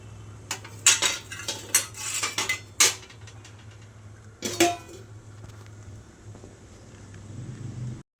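Metal pan and utensils clank and scrape on a stovetop before cooking payasam, several sharp clatters in the first few seconds, then a low steady hum with quieter handling.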